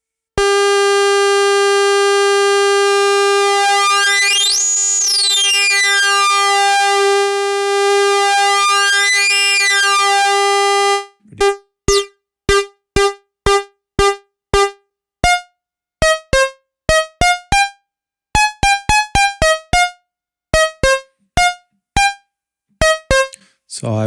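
ARP 2600 TTSH clone synthesizer with one oscillator hard-synced to oscillator 2: a loud sustained buzzy tone sweeping its harmonics for about ten seconds, then a run of short percussive plucked notes at varying pitches.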